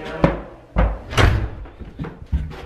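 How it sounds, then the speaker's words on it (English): The small pedestrian door to an apartment stairwell bangs open and shut in a series of close, heavy thuds and knocks, with handling clatter between the impacts. "Just told me to come open the little man door."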